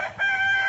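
Chickens kept as backyard hens with a rooster, heard as a short burst of clucking and crowing that is close, fairly loud and sustained, with no voices.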